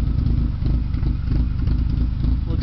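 A motorcycle fitted with a cut-down rice-can eBay tip and a truck exhaust, with blown bearings, idles close by in a steady, loud, low rumble with a slight clattery edge.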